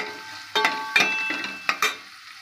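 Onion and curry leaves sautéing in a pan for pav bhaji, a low sizzle punctuated by four metallic spoon scrapes and clinks against the pan, close, no voices.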